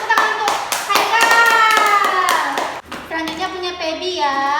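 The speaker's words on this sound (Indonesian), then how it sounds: "Betul, tepuk tangan untuk Haikal." Children in an Indonesian classroom clap for a classmate in a short burst, with voices and singing-like speech carrying over and after the clapping.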